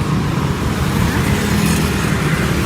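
Steady road traffic roars close by in Yogyakarta, Indonesia, a dense continuous rumble of cars and motorbikes with no gaps, loud and near throughout.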